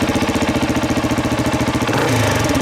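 A motorcycle engine on an MCT build with a rotten-boards problem runs at a steady, loud, close idle, its even low thumping pulse holding throughout before the tone shifts slightly near the end, with no talking.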